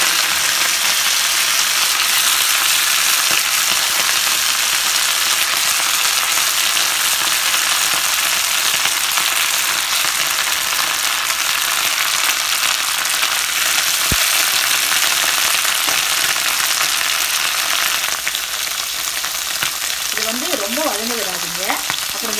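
Curry leaves being sautéed in a pan for a healthy curry leaf chutney, giving a steady, loud sizzle with occasional stirring, and a brief clink near the end.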